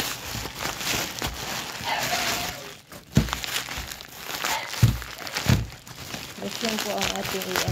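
Plastic packaging crinkles and rustles close by as a parcel is unboxed, with irregular crackles and a few soft thumps, while a person talks.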